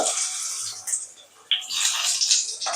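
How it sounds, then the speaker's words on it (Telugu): Stuffed bitter gourds going into hot oil in a pan for a bitter gourd fry, producing a steady bright hiss and sizzle with a fresh burst midway as more pieces hit the oil. "ఆయిల్ వేడెక్కిందండి కాకరకాయలు వేస్తున్నాను"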